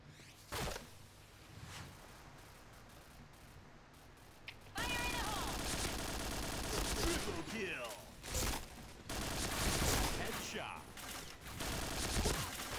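Automatic rifle bursts ring out in the online shooter Point Blank during a team match, with a quiet opening shot or two before dense rapid fire kicks in halfway and keeps going in loud repeated bursts alongside other game effects.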